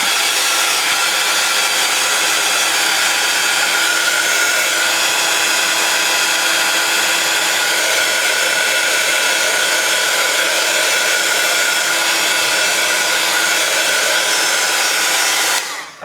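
A heat tool blows continuously while drying a die-cut card, a loud steady whooshing hum that holds for about fifteen seconds before cutting off; no talking.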